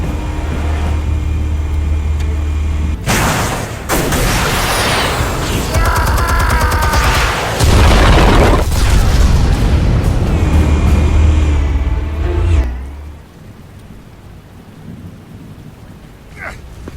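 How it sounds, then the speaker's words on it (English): Explosives detonating in Batman: The Telltale Series, a loud sustained roaring blast with rumbling low end and crackling debris lasting about ten seconds, then fading to a quieter tail. "Explosives armed. Fire when ready."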